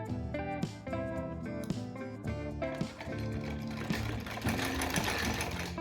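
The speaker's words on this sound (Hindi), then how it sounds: "बिल्कुल यहाँ से हमारी इसकी सिलाई चलनी चाहिए" A sewing machine stitching a Rajputi suit runs continuously with a steady mechanical whir, layered over background music throughout.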